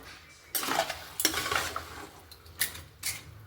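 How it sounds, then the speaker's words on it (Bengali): A spoon scrapes and stirs Bengali-style meat curry in a pan, giving a few separate close scraping strokes over a faint background, with no talking. "আমি এভাবে এটাকে নাড়াচাড়া করতে থাকবো"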